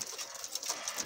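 Golden dab teddy cross pigeons cooing softly in a short burst, close by, with no voices.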